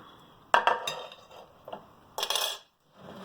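A spoon stirs a cheese mixture in a bowl, with a few clinking scrapes against the bowl in short bursts separated by quieter gaps, close and fairly soft.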